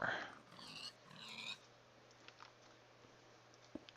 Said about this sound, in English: Noisy pigs.